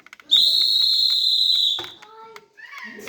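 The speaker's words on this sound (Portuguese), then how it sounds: "as crianças sopravam um apito" A shrill whistle blows in one long sustained blast, then cuts off, followed by faint children's voices and scattered noises.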